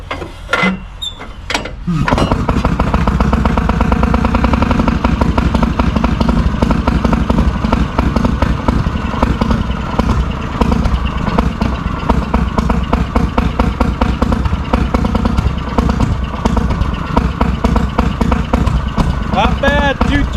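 A Fairmont M9 engine on a cold start after winter: a couple of seconds of uneven cranking, then the engine catches and runs loud and steady, with a close, rhythmic mechanical chugging that continues to the end.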